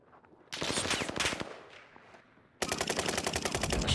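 Rapid automatic gunfire in a shooter video game, a short loud burst followed by a pause, then a second sustained burst of quick rattling shots, heard with no talk over it.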